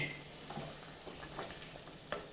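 A spoon stirs a Mangalorean prawns ghee roast with curry leaves in a pan, giving soft scraping strokes over a steady sizzle of frying, with a sharper clink near the end.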